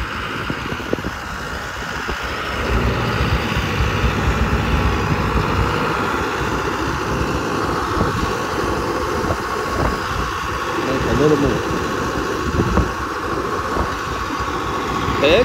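A John Deere tractor engine runs steadily at a low idle-like drone, fairly loud and continuous throughout, with rumbling vibration and a few brief noises over it.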